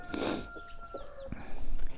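A young hen clucks in short bursts amid farmyard bird calls, with a brief rooster-like call and background chirps, fairly close.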